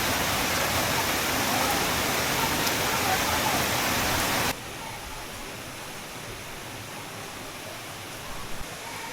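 Rain falling in Mumbai on the first rainy night of the season, still short of full strength: a dense, steady hiss that drops to a softer wash halfway through, with no voices.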